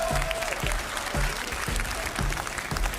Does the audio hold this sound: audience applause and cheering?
yes